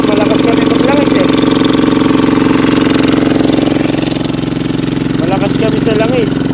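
A machine engine runs steadily nearby, a loud, even rumbling drone that continues throughout, with some faint voice-like sounds on top.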